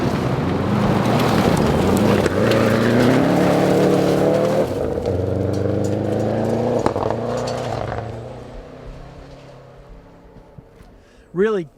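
A rally car on a dusty dirt stage of the Olympus Rally drives up into a corner, its engine note rising and falling through gear changes and braking, then fading into the distance, with a commentator talking over it.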